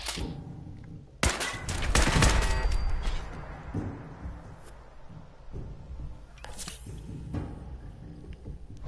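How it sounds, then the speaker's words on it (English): Gunfire rings out in the Fallout 4 video game, a sharp loud burst followed by a rumbling volley that fades into scattered thuds and a few later distant shots. "Now who's shooting me?"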